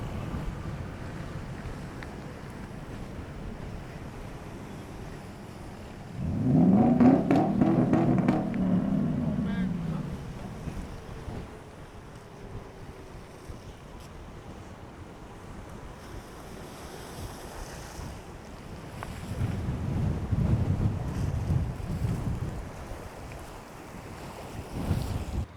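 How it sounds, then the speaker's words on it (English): Strong gusting wind blows at a lakeside boat launch, rumbling across the microphone in two loud surges separated by a calmer stretch of low steady roar. "That's some pretty nasty winds blowing right there. It's pretty gusting."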